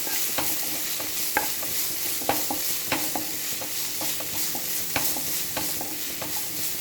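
Onions sauté in a pan with a continuous sizzle, broken by regular scraping and tapping of a spatula as they are stirred, close and fairly loud.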